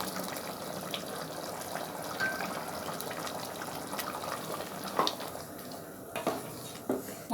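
Ground coconut paste poured into boiling water in a pressure cooker for a Tamil idly chicken kuzhambu, a soft continuous wet pouring and gushing with faint clinks of pots near the end.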